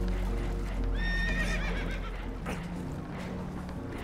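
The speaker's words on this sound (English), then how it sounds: "Horses are spooked, and we're taking on water." Spooked horses on a damaged, leaking boat in the Red Dead Redemption 2 video game let out a sharp, wavering whinny, with hoof clatter and low rumbling in the background.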